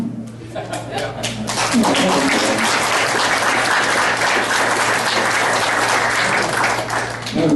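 Audience at a candidate forum in a retirement community breaks into applause, building quickly to a loud sustained round with some chuckles and murmured chatter mixed in.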